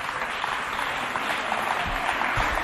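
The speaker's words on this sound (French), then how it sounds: "On l'applaudit encore bien fort." Steady, continuous applause from an audience at a children's charity event, dense clapping filling the short stretch with no clear voices.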